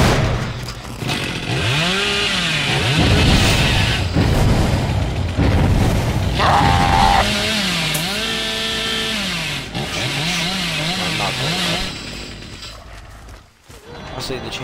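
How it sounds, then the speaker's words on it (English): Chainsaw noise from a horror video game played as the Hillbilly character: a loud, continuous, revving chainsaw whine with rising and falling pitch sweeps and heavy booming underneath. "the chainsaw noises actually give me"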